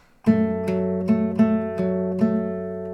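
Acoustic guitar fingerpicking, plucked notes arriving in a steady pattern about every half second over sustained ringing strings, close and clear with no voice.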